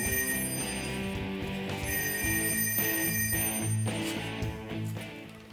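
A telephone rings indoors in a workshop where epoxy resin is being poured, giving a loud, continuous electronic bell ringing in repeated bursts close by, with no talking.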